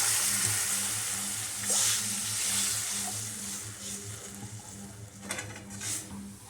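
Water is poured into a hot pan of fried onions while cooking upma, bringing a soft hiss and bubbling, with a couple of brief louder sizzling bursts over a steady low hum.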